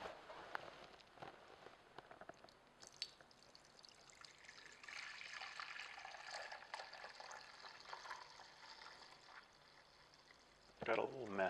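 Freshly pressed juice from an Angel juicer pours in a steady, soft trickling stream for several seconds, fairly quiet, with a louder clatter at the end.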